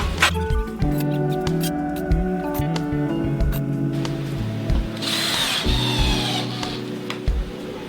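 A power drill whirs in repeated short bursts, stopping and starting as it drives screws into wood strapping in a basement, with tonal motor whine and some clunks in between.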